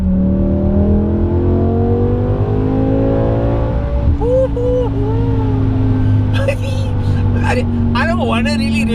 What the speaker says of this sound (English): I don't want to really rev it that high, but that's when it sounds the best.